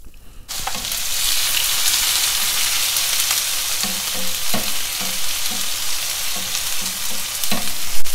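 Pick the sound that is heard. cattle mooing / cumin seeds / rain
cumin seeds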